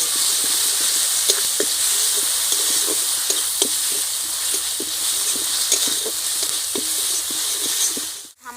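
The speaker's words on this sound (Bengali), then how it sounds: "কাঁচা লঙ্কা বাটা দিয়ে দিচ্ছি, দিয়ে ভালো করে কষে নেব।" Green chilli paste sizzles steadily in a pan for doi katla, a close continuous hiss of frying broken by small spatters and occasional stirring scrapes, ending abruptly.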